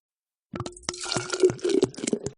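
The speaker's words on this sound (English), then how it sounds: "Once the stew is done, pour it into a clean jar." Stew is poured into a clean jar in a children's winter kitchen cooking game, producing a run of cartoonish wet plops and liquid drips over about two seconds, heard alone without talk.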